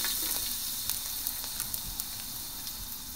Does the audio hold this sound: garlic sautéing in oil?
yes